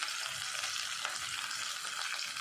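Homemade syrup is poured slowly onto fried chicken in a pan on a low flame, giving a continuous bright hiss with soft stirring scrapes, close and steady without a pause.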